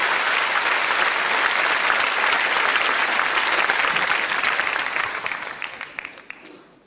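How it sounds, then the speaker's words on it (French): Audience applause for the Starbugs performers at the Funambolika 2012 street show, dense steady clapping from a crowd that carries on for several seconds and then thins into scattered claps as it fades. "Applaudissez-les encore"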